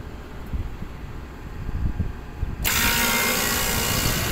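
An HVAC air conditioner compressor starts partway through after quiet handling noises, then runs as a steady, loud, even hum and hiss to the end.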